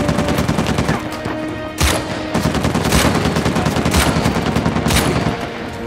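Gunfire in the video game Uncharted 4, a busy stretch of rapid shots with several sharp, loud single cracks standing out over a dense continuous rattle of firing.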